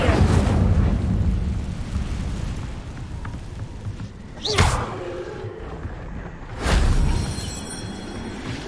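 Fire spell bursts in the Hogwarts Legacy game: a heavy rumbling blast at the start, a sharp whooshing flare near the middle and another booming burst later, loud with quieter gaps between.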